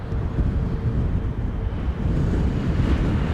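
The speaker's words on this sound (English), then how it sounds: "The wind is a bitch today." Strong wind at an airport buffeting the microphone, a loud low rumbling roar that surges and dips steadily with no voices.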